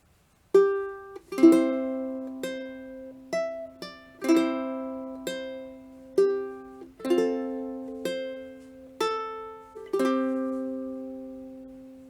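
Plucked ukulele notes picked one at a time in a slow melody, each ringing and decaying before the next; clear, close, and alone.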